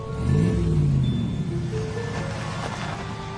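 Car driving away as a radio drama sound effect: a single engine note rises and then fades with distance, moderately quiet with faint background hiss and no voices.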